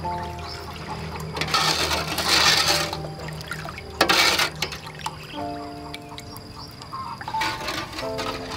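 Fresh milk is poured for banana ice cream, a liquid splashing and trickling in bursts over a background of steady humming tones, fairly close with no voices.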